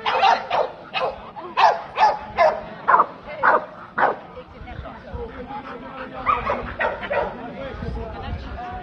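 A dog barks repeatedly in a conformation show ring at an ADBA event in Italy, sharp close barks in a quick series that give way to softer yips and whimpers over crowd chatter.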